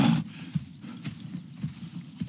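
Horses in the video game Red Dead Redemption 2 shift and step quietly, giving a few soft hoof thuds over a low ambient bed.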